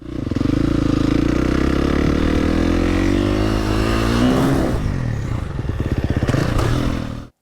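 A two-stroke motocross bike revs hard under a strong throttle blip, its engine note climbing steadily, then breaking into rapid, rattling pulses close to the microphone before cutting off.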